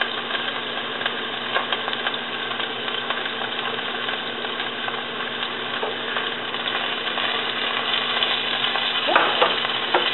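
Seasoned chicken browning in a pan sizzles and crackles steadily, a dense, even frying hiss that holds for the whole stretch, slightly louder toward the end, with no talking.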